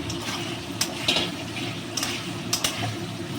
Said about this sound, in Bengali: এবার আমি আলুটা আর পটলটা দিয়ে নিচ্ছি।